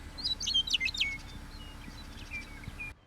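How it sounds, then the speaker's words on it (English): Meadowlark and other birds singing in a remote wild corner of Oregon, heard as a clear run of bright chirps and whistled notes near the start, then softer distant calls over a steady low hum. "there's a bunch of bird sounds that were really pretty and peaceful. Meadowlark singing."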